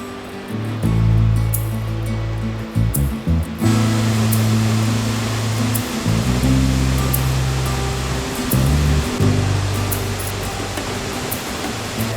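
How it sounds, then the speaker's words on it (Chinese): Seljalandsfoss waterfall in Iceland pours as a broad, steady roar of rushing water, loud and close, with low rumbling wind buffeting and irregular thumps over it. "首先，我们来到塞里亚兰瀑布。"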